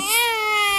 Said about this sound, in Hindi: ये तो किसी बच्चे की आवाज आ रही है।